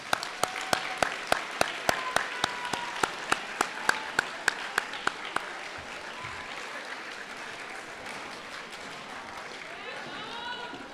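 A large crowd applauds steadily at the Renaissance High School 2022 graduation ceremony, graduates clapping for their families, a dense wash of clapping that carries on without a break.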